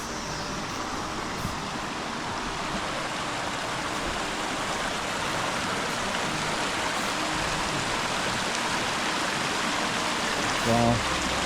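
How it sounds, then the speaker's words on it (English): Water flowing in a stream near a bridge makes a steady, unbroken rush that holds at an even level throughout, with no voices over it. "the water flows"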